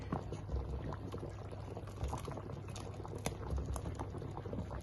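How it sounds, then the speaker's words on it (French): Harira soup simmering in a pot, a soft continuous bubbling and burbling with a low rumble, quiet and steady with no voices. "il faut laisser bien mijoter"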